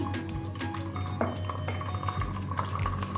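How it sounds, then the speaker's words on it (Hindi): Water is poured into a pan of hot oil with sautéed garlic ginger paste for beef keema karahi, giving a soft close splashing and dripping of liquid. "अब मैं इसमें शामिल कर दूंगी थोड़ा सा पानी"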